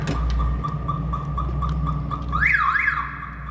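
A 1991 Chevrolet Camaro RS car alarm: a repeated electronic chirp pulses steadily, then a louder warbling siren tone sweeps up and down twice, close and clear against a low rumble.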